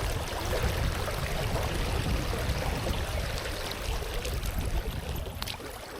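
Water rushes steadily over a small group of river rapids at a trout fishing spot, a dense, continuous broadband wash that stays even and close throughout with no voices.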